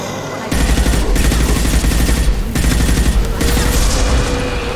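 Dense gunfire and explosions rattle through a Mass Effect 2 battle, a loud continuous barrage of rapid shots with booming bursts and only brief dips.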